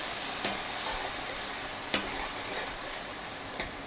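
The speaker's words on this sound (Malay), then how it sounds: "Kita goreng dia, kita tumis dia sampai garing, sampai pecah minyak ya." Blended green chili spice paste sautés in hot oil for terung sambal hijau, a continuous loud sizzle with a few sharp stirring scrapes against the pan.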